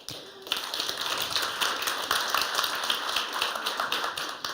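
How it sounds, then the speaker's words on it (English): An audience at a fintech awards ceremony claps in a brief, fairly light round of applause, with dense overlapping hand claps heard close and no one speaking. "a big round of applause to everyone"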